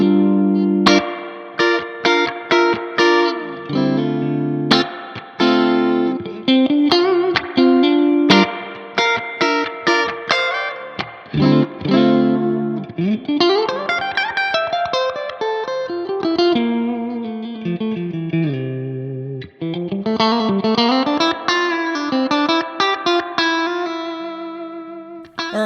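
An electric guitar played through a Marshall Studio 900 amp with the reverb turned up rings out in strummed chords and sustained, bending notes, each one trailing a lush wash of reverb, with nobody talking over it.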